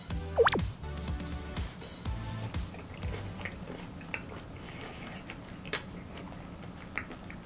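Close, wet chewing and small smacking clicks from someone eating a bite of caviar topped with gold flakes, shrimp and sea urchin roe, with irregular soft ticks and no talking.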